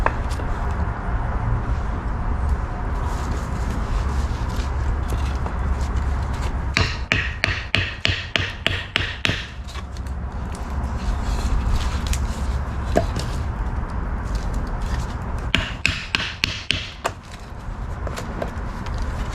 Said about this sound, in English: Just by cutting notches all the way around.